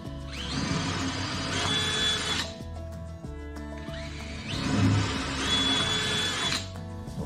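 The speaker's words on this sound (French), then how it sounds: "Et donc là je vais percer mon mur." A power drill bores into a plasterboard wall while a curtain rod is being fitted, two sustained whirring bursts of about two seconds each with rising pitch and a short pause between, close and loud.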